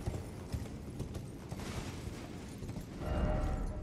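Hooves of the spectral steed Torrent clop steadily in Elden Ring: Shadow of the Erdtree while ridden through a long tunnel, a dense rapid patter under game ambience that swells slightly near the end.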